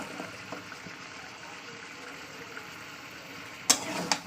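Malabar spinach stalks go into a hot pan of cooking food, giving a soft, steady sizzle and bubbling, with a sharper burst of frying noise near the end as they land.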